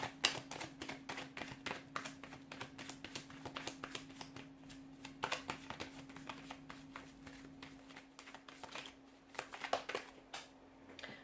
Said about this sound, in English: let's go ahead and give the cards a shuffle.